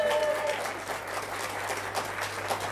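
A pub audience at the Malmsbury Hotel cheers and applauds the singers with steady, dense clapping that fills the room, and voices in the crowd mix into it.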